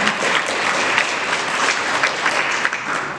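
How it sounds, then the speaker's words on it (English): Audience applause at a community town hall about the 11th Street Bridge Park, a dense, steady clatter of many clapping hands that stays loud throughout, with no talking over it. "I think that deserves a round of applause."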